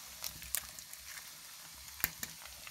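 Quelites frying in a pan as eggs go in, a soft continuous sizzle with a few sharp spattering pops and clinks, close and low in level.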